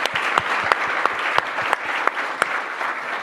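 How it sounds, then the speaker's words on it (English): Audience applause at a university high tea book discussion, a fairly sparse round of clapping with distinct individual claps standing out at a regular pace, moderately close. "A warm round of applause, ladies and gentlemen."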